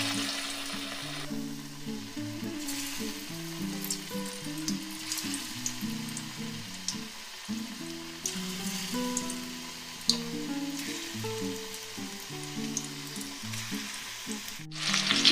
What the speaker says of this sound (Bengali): এবার চিকেনগুলোকে আমি ফ্রাই করে নেব।